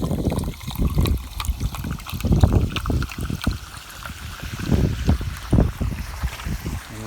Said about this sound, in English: right away you'll see it start bubbling up like crazy